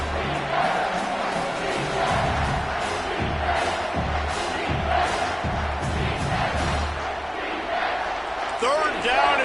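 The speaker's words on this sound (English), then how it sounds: "this crowd will blow out a vocal cord to help this defense" A stadium crowd in EA Sports College Football 25 roars loudly and continuously, with rhythmic low thumps of stomping or chanting beating under the steady wall of voices.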